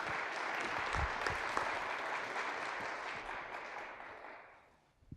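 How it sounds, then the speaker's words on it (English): An audience at a 1MC KC morning gathering claps in a full round of applause, sustained and dense, then thinning and fading out toward the end. "Give them a big round of applause."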